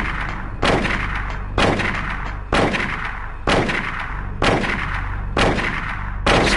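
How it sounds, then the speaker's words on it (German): Gunshots in the Silent Hill video game on PS1, six loud booming blasts spaced about a second apart, each ringing out with a metallic tail over a droning low hum, with no talk. "Dass der Schuss von ihm immer weitergeht, ist so hohl bei der Musik hier"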